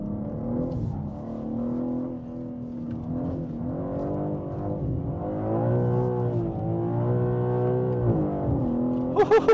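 A tuned BMW M3 Competition xDrive accelerating hard from inside the cabin, a loud, steady engine drone that rises in pitch through the gears, with a brief sharp burst near the end.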